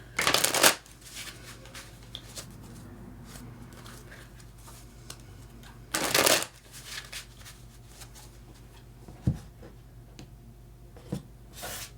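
Tarot cards are shuffled in two distinct crisp riffling bursts several seconds apart, with soft handling clicks and rustles in between.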